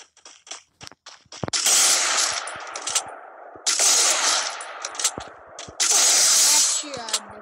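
Gunfire from an MP40 and a shotgun in the mobile game Free Fire comes as loud, sustained automatic bursts separated by sharp single shots and quieter gaps.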